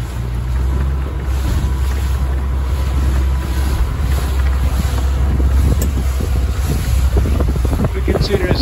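A Carolina Skiff 23LS outboard motor runs at about 2,000 RPM on a lake, a steady low drone alongside loud wind buffeting the microphone and water splashing against the hull throughout.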